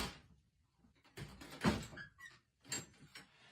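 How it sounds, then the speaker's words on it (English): A door moves and shuts on its own indoors, giving a few dull thumps and a sliding scrape over about three seconds, faint and close with no voices. "Shut the door."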